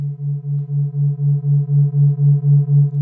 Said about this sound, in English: these are 2 sine waves clashing with one another, making these ripples